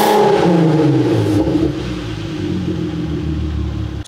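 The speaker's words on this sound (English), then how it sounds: "Now let me check again if it's warmed up, and I'll rev it up for you guys." A VW 3.2L 24V VR6 engine with a new clutch and timing chain revs loud and close, its deep rumble falling away as the revs drop, then cuts off at the end.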